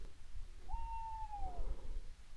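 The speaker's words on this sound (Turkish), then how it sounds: "Bu arada baykuş geldi." A single owl hoot rises and then glides down in one smooth tone inside the dark Boogeyman horror game, standing clear above a low, steady background rumble.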